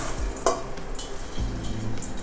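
Caramel popcorn being scraped and stirred out of a pan, with close metallic scrapes, a sharp clink and a faint underlying sizzle in quick irregular bursts.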